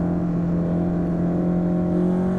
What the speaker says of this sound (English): We come out of the turn and roll into the throttle. Brutal shifts.